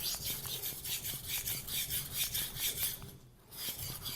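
A Shirogami steel knife is sharpened on a natural Japanese whetstone with long front-to-back strokes, producing a rhythmic rasping scrape of roughly two strokes per second, close and steady, with a short pause near the end.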